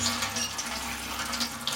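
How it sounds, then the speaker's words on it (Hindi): Tap water runs steadily into a kitchen sink while fresh coriander is rinsed under it, a continuous close splashing wash with no talk. "ठीक है, ये आपका धनिया धुल गया।"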